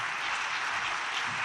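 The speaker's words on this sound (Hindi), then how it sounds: "सोनिया के लिए और इन जैसी बहुत सी ख़वातीन के लिए बहुत सी तालियां" Applause from the audience at a government house allotment ceremony, a brief dense burst of many hands clapping, loud and steady.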